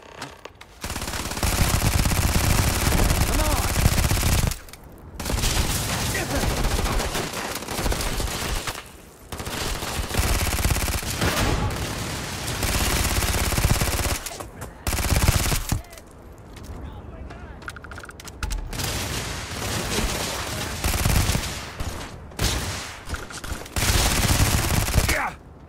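Sustained gunfire in the Starfield video game, long bursts of rapid automatic fire broken by short pauses, loud and close throughout with no speech heard.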